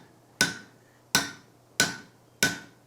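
Four sharp, evenly spaced metallic strikes as a blacksmith hammers a punch into hot steel to open a hole while forging a hog catcher, each ringing hit decaying quickly in a quiet shop.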